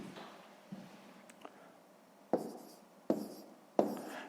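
Pen or pencil strokes on paper while numbers are written out for a column subtraction problem, a few faint scratches followed by three sharper taps and strokes, close and quiet in an otherwise silent room.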